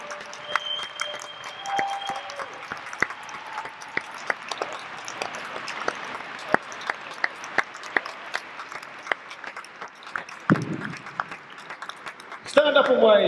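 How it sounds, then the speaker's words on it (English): An audience applauds the Clerks 25th anniversary panel with a steady patter of scattered, fairly light claps running for several seconds, and a brief louder burst near the end. "can we have a big round of applause for the panel from Clerks 25-year anniversary"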